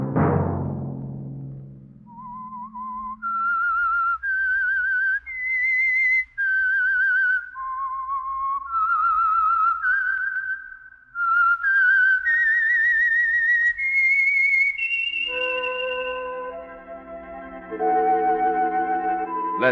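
A person whistles a slow, eerie melody with long held and sliding notes, clear and close, before music joins near the end.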